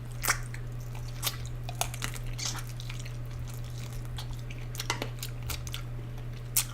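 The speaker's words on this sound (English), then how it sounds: "So I do enjoy chewing up the bones," Pig bones are chewed close to the mic while eating tripe soup with mozzarella, carrot and shiitake mushrooms, giving sharp crunches and bites at an irregular pace over a steady low hum.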